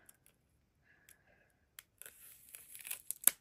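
Near silence with a few faint clicks, then plastic wrapping is torn and crinkled off a trading card game deck, a close, rising burst of rustling that ends in a sharp rip.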